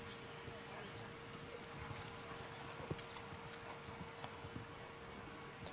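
A dressage horse trots through a championship test in an arena, its hooves giving a steady, soft clip-clop that stays fairly faint beneath constant broadband background noise.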